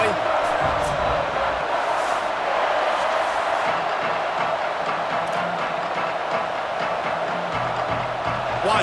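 Stadium crowd at BYU in a college football video game, a steady dense roar of many voices and cheering held at an even loud level throughout, with a commentator's voice over it.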